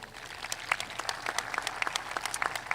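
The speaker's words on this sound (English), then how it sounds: "Please give these students a round of applause." A crowd applauds at a high school commencement ceremony, with steady, dense clapping from many hands at moderate distance that carries on through the whole moment.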